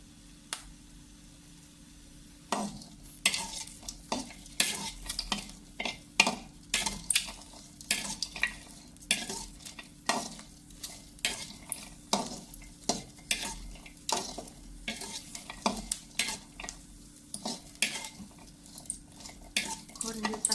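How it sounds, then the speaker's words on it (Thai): Chilies, garlic and shallots dry-roast over low heat for a Thai jaew pla ra dip, with a spatula scraping and stirring the pan in frequent rhythmic strokes over a faint steady sizzle, close and clear. "คั่วด้วยคั่วพริกด้วยไฟอ่อนๆนะคะ"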